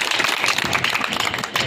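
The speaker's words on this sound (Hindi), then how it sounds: "तालियों की गड़गड़ाहट से इनको बधाई दिया जाए।" Applause from booth workers at a political party meeting, a dense, steady roar of many hands clapping together, loud and continuous throughout with no voices standing out.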